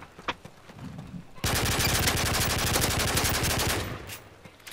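Revolver gunfire in a video game: a loud, close, rapid stream of shots rattles for about two and a half seconds after a few quieter isolated pops, then cuts off, with no talking.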